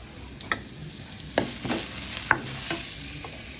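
Ground chicken sizzles and fries in a pan while a spatula stirs it, the steady crackle broken by several sharp scraping strokes close up.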